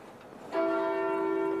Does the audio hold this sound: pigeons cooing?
no